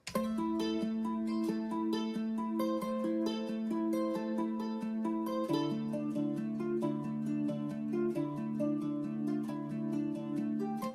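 A MIDI fingerpicked acoustic guitar preset plays a flowing arpeggiated chord pattern, notes ringing into each other, shifting to a lower chord midway, clean and steady.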